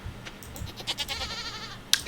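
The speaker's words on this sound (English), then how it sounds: "Alright, just let me say hello to my goat and my cow." A goat in the Stardew Valley farming game gives a short wavering bleat, fairly soft and clear, against light background game ambience with a small click near the end.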